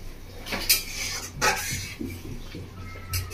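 Prawn malai curry gently stirred in a pan, with a few close metallic scrapes and clinks of the spoon against the pan over a low background hum, and no voices.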